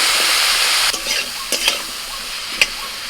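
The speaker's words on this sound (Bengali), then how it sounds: "ফুলকপি আর বিনসটাকে আমি কিছুক্ষণ ভেজে নিয়েছি" Cauliflower and beans frying in a little oil with turmeric and salt, a loud steady sizzle broken by several sharp scraping stirs of a utensil against the pan, with no talk.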